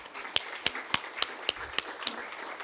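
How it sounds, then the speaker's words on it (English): Slow, evenly spaced single claps, about eight crisp hand strikes roughly a third of a second apart, from a small audience at a graduation ceremony honoring academy staff, fairly faint with a quiet room between them. "And let's give a round of applause, if we could,"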